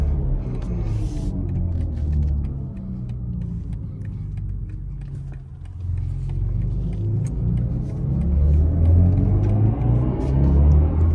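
A BMW i4 electric car accelerates hard under launch control, producing a continuous interior rumble and rising motor whine that dips briefly midway and then swells again, loud and close, with no talking.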